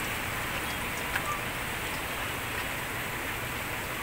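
Rain falls during Typhoon Enteng as a dense, even hiss of heavy downpour, steady and unbroken, with no voices over it.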